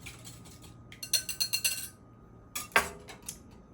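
Spoon clinking against a bowl in a quick run of light taps while feta, spinach and asparagus pie filling is stirred, followed by a few scattered scrapes, close and fairly crisp.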